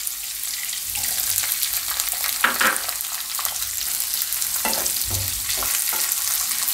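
Mixed vegetables with capsicum fry in a little oil for a Gujarati mixed veg shaak. A loud, continuous hiss of frying fills the sound, with occasional stirring shuffles close by.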